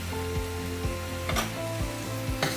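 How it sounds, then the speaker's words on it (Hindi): Red chilli, turmeric, coriander powder and salt frying in ghee in a pan, a steady close sizzle broken by several rhythmic scraping strokes of a spoon stirring the spices. "इसको हम फिर हिला लेंगे एक बार, जिससे कि मसाला हमारा भुन जाए।"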